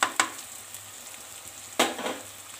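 Garlic, ginger and green chillies sizzle with tomatoes in a pan, a steady soft fry broken by two sharp bursts as ingredients hit the hot oil, with no talking.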